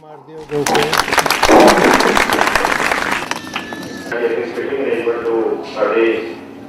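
Audience applause at an eye check-up camp held by a public library. A crowd claps in a dense, loud burst, then thins into scattered claps while voices talk over it.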